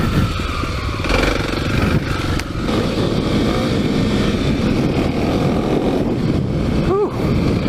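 A Kawasaki KLX300 dirt bike rides a trail, its engine droning loud and continuous up close with heavy wind buffeting and a brief rising rev near the end.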